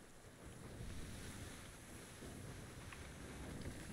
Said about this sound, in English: A little chop in the water here.